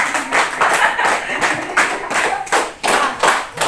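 Children clap in unison during a counting clap game at a school gathering, a steady run of about seven sharp group claps in regular rhythm, close and loud, with voices faintly mixed in.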